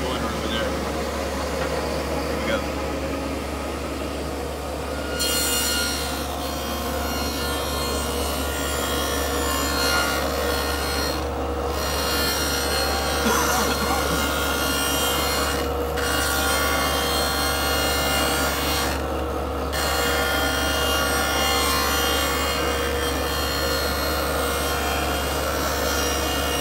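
A jointer cuts a rabbet along the edge of a wormy maple board with a continuous loud whirring and rasping drone, broken by a few brief dips, while a person talks over it.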